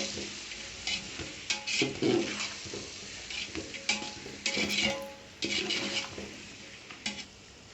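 A spoon stirs eggplant and salt fish curry in a frying pan, irregular scraping and clinking strokes over a soft sizzle, close by.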